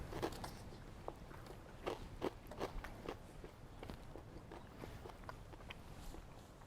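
Crispy BBQ pork belly smoked hanging in a Gateway Drum Smoker is bitten and chewed, giving a series of sharp, close crunches with quieter chewing between them and no talking.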